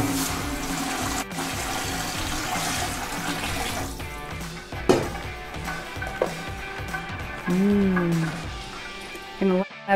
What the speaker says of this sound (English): so now we can throw in our broth